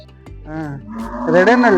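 A Jersey and red HF crossbred cow at a cattle market in Davanagere gives a single loud, close moo that rises and swells over under two seconds.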